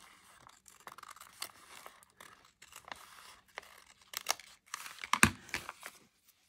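Scissors snipping a thin sliver off the edge of a paper envelope, a string of quiet, close crisp cuts and crinkles, irregular and sparse, with one sharper snap near the end.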